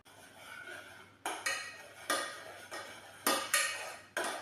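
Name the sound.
stirring melted butter in a pot to cool it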